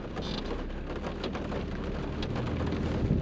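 Steady rain falls outdoors, a dense continuous hiss and patter with low rumbling underneath, constant and fairly close, with no voices.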